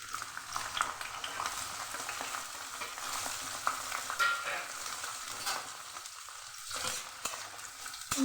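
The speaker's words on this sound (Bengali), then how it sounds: "ভালো করে পেঁয়াজটাকে ভেজে নেব" Onions fry in mustard oil and ghee, giving a continuous moderate sizzle with scattered pops and stirring scrapes throughout, close to the pan with no talking.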